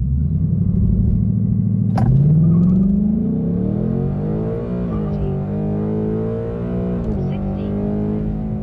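2024 Ford Mustang launching hard in drag mode with traction control off, a loud, close engine roar climbing in pitch through the gears, with a brief chirp of wheel spin and steady heavy rumble throughout.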